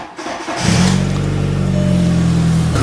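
A car engine cranks during a battery tester's cranking test, a brief starter whir, then the engine catches and settles into a steady loud idle.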